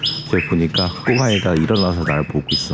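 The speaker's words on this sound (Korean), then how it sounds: "지금 새 소리 들리세요?" Birds chirp in short, bright calls in the quiet morning near a cenote, some sounding dove-like. The calls repeat through the moment while someone talks up close over them.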